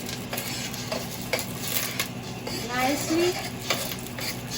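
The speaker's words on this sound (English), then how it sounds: "add our onion, garlic, and ginger to the pot, and let it cook" Onion, garlic and ginger sizzle steadily in hot oil in a cooking pot, with occasional spoon scrapes and clinks as they are stirred, while a voice speaks briefly over the cooking.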